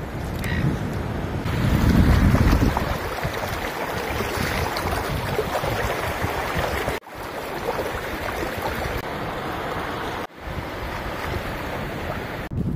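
Waves wash in at a shoreline under strong wind, a loud, continuous roar of surf with gusting microphone buffeting, one heavier surge near the start and brief dropouts later.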